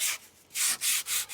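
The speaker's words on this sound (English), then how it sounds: "This is 80 grit sandpaper." Scrap wood being sanded by hand with 80 grit sandpaper: four close, loud, rasping strokes in a steady back-and-forth rhythm, each about a quarter second long with short pauses between.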